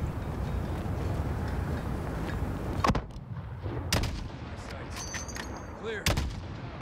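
Mortar and gun fire during a Call of Duty story mission: several sharp, heavy blasts stand out over a constant rumbling battle backdrop.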